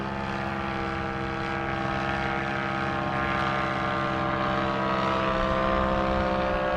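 Military aircraft flying overhead above a campsite on Padre Island, a steady loud propeller drone that holds constant and close throughout, with no talk.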